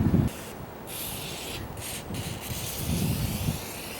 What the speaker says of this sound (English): we're going to take some of this WD-40 silicone spray, and I'm just going to throw it on the tracks